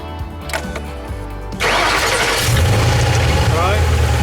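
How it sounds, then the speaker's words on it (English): A 2005 Ford Mustang GT cranks and fires up with the fuel pump relay pulled, settling into a loud, steady close-up idle; someone talks briefly before the start. "we're gonna remove it. Okay. And then we're gonna turn the vehicle on."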